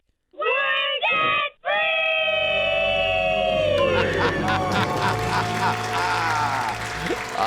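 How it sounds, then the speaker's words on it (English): A family lets out a debt-free scream, a loud sustained group yell in several voices, broken twice at the start and then breaking into cheering and applause. "Let's hear a debt-free scream."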